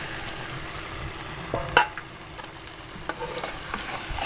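Fried arvi (taro) pieces stirred with mashed spices in a pan, a soft steady sizzle broken by a few sharp spoon scrapes and clinks, close and moderately quiet with no talk.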